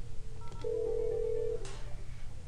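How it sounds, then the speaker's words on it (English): A desk telephone on a PIMphony attendant console places a call to the operator. A single steady ring tone lasts about a second, framed by faint clicks and a quiet background. "I'm going to make another call to my operator."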